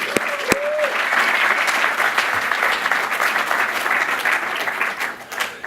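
A conference audience applauds at a welcome session marking Plone's 15th birthday, dense steady clapping filling the room for several seconds and tapering at the end.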